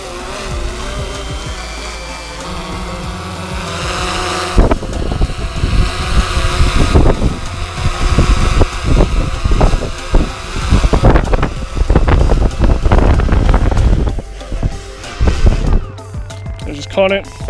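A DJI Phantom 3 Professional drone coming in to land outdoors on rocky ground, its rotor whine rising and growing busier under wind buffeting on the microphone while a person talks nearby.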